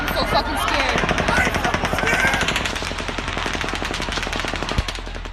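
Rapid, sustained automatic gunfire aimed at a crowd at the Route 91 Harvest country music festival: dense, continuous bursts of shots heard from a distance, with screaming and voices mixed in.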